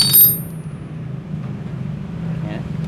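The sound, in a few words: starting a Suzuki Shogun R 110 motorcycle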